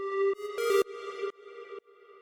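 A short square-wave synth pluck made in Ableton Operator plays a few clipped, buzzy notes in a rhythmic pattern, each cutting off sharply, loud and alone.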